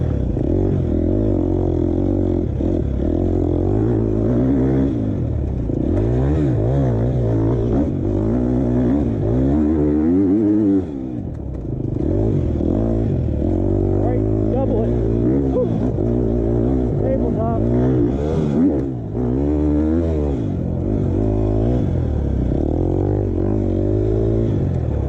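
A 2020 KTM 250 XCF dirt bike engine revs up and down repeatedly, loud and close, its pitch rising and falling in waves throughout with a brief dip midway.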